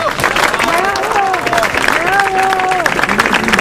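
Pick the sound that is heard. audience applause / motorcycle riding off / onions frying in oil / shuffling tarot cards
audience applause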